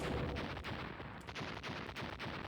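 Ship cannons in the Galaxy space video game firing in a rapid, rhythmic volley of booming blasts, loud and continuous.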